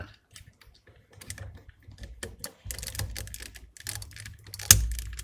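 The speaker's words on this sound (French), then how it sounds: "on a entendu le petit clips, tout va bien" Plastic parts of a Bandai Soul of Chogokin GX-77 Gipsy Danger figure being handled while the rear section is refitted, giving scattered small clicks and rattles, then one sharp snap of a clip locking into place near the end.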